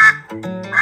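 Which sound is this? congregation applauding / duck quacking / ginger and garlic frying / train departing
duck quacking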